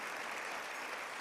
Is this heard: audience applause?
yes